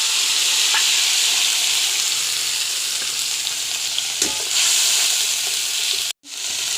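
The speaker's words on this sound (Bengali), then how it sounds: "ভেজে নিয়ে তারপরে এবার আমি কালো জিরে ফোড়ন দিলাম, মশলাটা দিয়ে দিলাম" Black cumin seeds and spices sizzle in hot oil, a steady bright frying hiss that runs continuously with slight stirring variations, close and alone, cutting off abruptly near the end.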